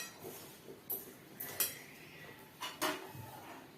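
Onion pakoda batter mixed by hand or spoon in a bowl, giving a handful of light clinks and knocks against the bowl over soft, wet shuffling, fairly quiet and close, with no talk.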